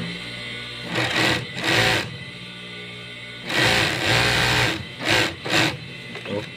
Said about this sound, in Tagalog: Lagyan natin sinulid agad para magkalaman kung tumahi ba o hindi.